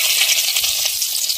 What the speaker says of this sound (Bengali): তেল তেতে উঠেছে, এখন তেজপাতা দিতে হবে।